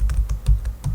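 Rapid typing on a computer keyboard, a quick run of light key clicks in an uneven rhythm, close and clear with no voices.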